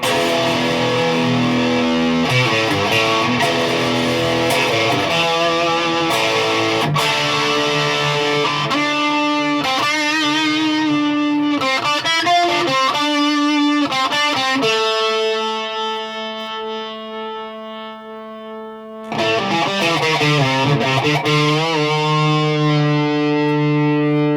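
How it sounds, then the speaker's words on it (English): A high-quality electric guitar sounds a sustained E through the amp's distorted dirty channel, loud and ringing with repeated strums, then fading briefly before another crunchy chord returns; no voices. "when you play an E on the really good guitars through this amp on the dirty channel"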